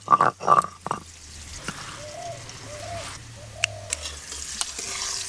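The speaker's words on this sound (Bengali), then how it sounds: "তেল গরম হয়ে গেছে, আলুগুলো হালকা করে ভেজে নেব" Potatoes fry in hot mustard oil with a steady, moderate sizzle, opened by a few clattering knocks as they are moved in the pan, with occasional faint clicks later.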